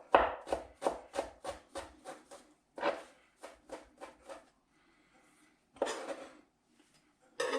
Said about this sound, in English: This won't be going in until the very end, but we'll finely chop it now.